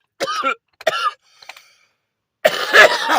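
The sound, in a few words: cough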